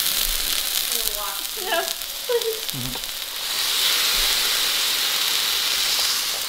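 Walmart Wagyu sirloin steak searing in a hot pan, a steady loud sizzle and hiss throughout that swells louder in the second half, with brief voices talking over the first few seconds.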